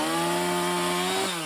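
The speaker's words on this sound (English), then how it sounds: "a chainsaw," A chainsaw engine drones steadily at high revs, a buzzing tone that holds and then drops slightly near the end, loud and close with no voices.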